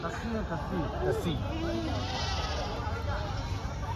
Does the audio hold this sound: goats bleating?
yes